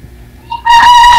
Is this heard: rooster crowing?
yes